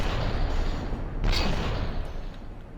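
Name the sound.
cannon firing in video game From the Depths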